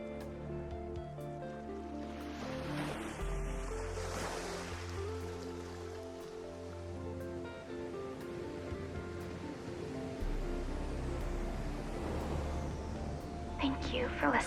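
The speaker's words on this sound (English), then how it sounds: "I need a moment to enjoy my ocean" Ocean waves wash and surge in the Subverse video game, a soft continuous surf layered under steady musical tones and ambience, with occasional brighter splashes near the end.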